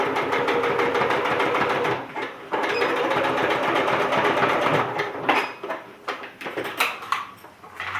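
A sewing machine runs a zigzag stitch across fabric, with a steady rapid mechanical whir that pauses briefly and then resumes in short stop-start bursts, close and clear with no talk.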